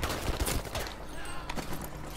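Rapid bursts of gunfire from a Battlefield V match crack repeatedly across the clip, loud and dense, with several sharp shots standing out near the start and middle.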